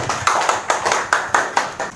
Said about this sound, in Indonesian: Kasih tepuk tangan buat Mas Dimas yang lain